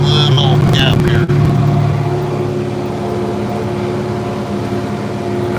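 An IH 4786 tractor pulling a 27-foot cultimulcher through a field for fall tillage, its engine droning loud and steady from inside the cab, with a brief rattle early on.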